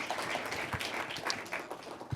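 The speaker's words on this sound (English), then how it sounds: "so a big applause." Conference attendees give a brief round of applause for the event staff, scattered moderately quiet clapping in a large room with a few sharper claps standing out.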